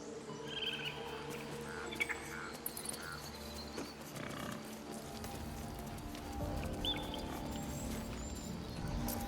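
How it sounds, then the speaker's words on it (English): Bird chirps and song in the Baldur's Gate 3 video game, light and scattered over a steady ambient bed with faint hoof-like clops and mechanical rumble. "The birds. They're beautiful."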